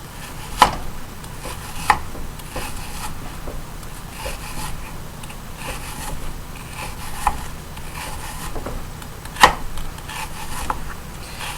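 Cod fillet being cut into small pieces on a kitchen board, giving a few sharp knife taps against the board amid soft, quiet handling rustle, with no talking.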